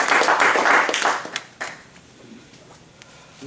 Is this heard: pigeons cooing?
no